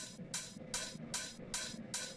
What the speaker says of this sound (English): For the drums, besides the kick, you have these open hats.